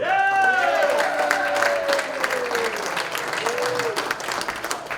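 Steady crowd applause at a Lions Club officer installation dinner, continuous clapping throughout with a voice talking over the start and a sliding tone rising above the noise.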